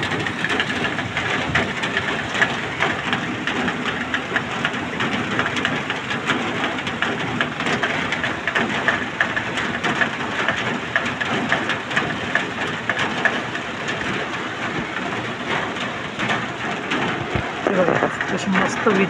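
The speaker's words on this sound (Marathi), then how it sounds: "सकाळपासून पाऊस चालू आहे" Rain falling steadily since early morning in Badlapur, a dense, continuous hiss of drops close by, with a voice speaking intermittently over it.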